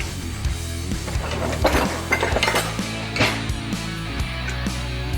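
Chopped leek and garlic cloves tumble into a cooking pot for chicken soup, bringing scattered clinks and knocks of metal and a utensil, close and moderately quiet, with no talk.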